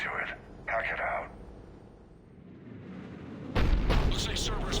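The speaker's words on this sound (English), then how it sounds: "Looks like Cerberus got that cannon operational, Commander. I'll go back up, get a read on what they're shooting at." Heavy Cerberus cannon fire in Mass Effect 3 booms in at the end as a loud, sustained low rumble after stretches of radio-style dialogue and quieter ambience.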